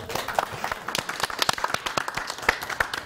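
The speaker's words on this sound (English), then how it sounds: "I think that deserves a round of applause." Studio audience on a talk show gives a short round of applause made of sparse, distinct handclaps from a small group, fairly close and uneven in rhythm.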